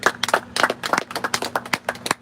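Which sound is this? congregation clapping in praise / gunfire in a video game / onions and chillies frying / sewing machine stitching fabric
congregation clapping in praise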